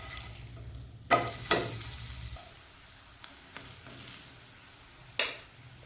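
Bottle gourd adai (surakkai adai) sizzles softly in a pan after being flipped, with a few sharp scrapes and knocks of a spatula breaking over the quiet, steady frying hiss.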